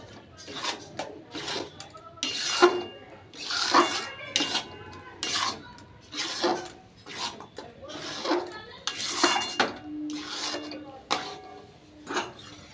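A spatula stirs thick rice batter in an aluminium pan, producing repeated scraping and clattering strokes in an uneven rhythm, close and fairly loud, with quiet gaps between bursts.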